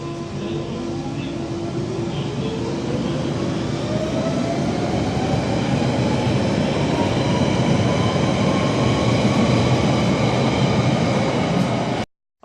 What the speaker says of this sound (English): Let's see this train go out.